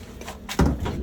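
A door is pushed shut nearby during a motor scooter calibration session, a short scrape followed by a solid thud of the latch closing.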